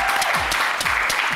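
Studio audience on the French TV talent show Vous Avez du Talent gives a short burst of steady, dense applause, loud and close throughout with a faint voice beneath.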